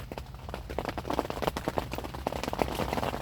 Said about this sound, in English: The weather's moved in now. Constant rain.